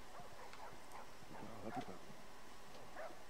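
Puppies in The Last of Us video game give faint, scattered barks and yips, a few short calls spread across a few seconds beneath low background noise.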